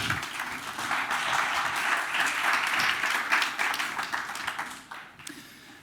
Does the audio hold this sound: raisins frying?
no